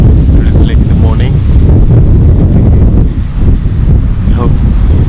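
Strong wind roaring across the microphone outdoors on a drizzly morning, loud and continuous with a voice speaking faintly beneath it.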